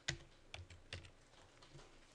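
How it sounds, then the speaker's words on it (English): Keys on a computer keyboard typing a command into Rhino 3D modelling software, a handful of quiet, separate close clicks with pauses between them, no voices. "let's type this command in so we can get used to doing it multiple ways"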